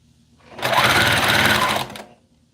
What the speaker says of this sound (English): Now I will stitch this part and